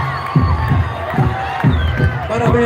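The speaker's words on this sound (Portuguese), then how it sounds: "Eu quero uma salva de palmas" Festival crowd cheering and clapping during a rehearsal for the Garantido group, with loud rhythmic bursts of shouting and applause swelling over steady background noise. Voices mingle in the crowd noise.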